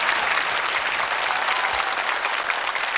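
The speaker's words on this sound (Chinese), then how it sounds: "我们再次掌声" A studio audience claps at the close of a Taiwanese variety show segment with veteran singers, a dense, even burst of applause that holds strong for three seconds.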